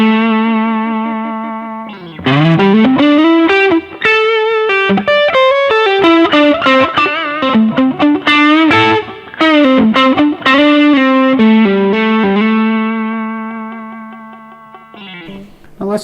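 An electric guitar played through an Xotic BB Preamp overdrive pedal with the gain set almost to maximum gives a thick, saturated, distorted tone. Sustained notes and bending lead phrases ring loud and close, then fade out.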